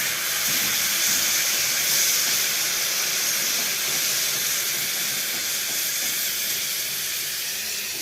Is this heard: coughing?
no